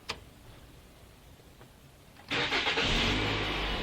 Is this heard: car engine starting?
yes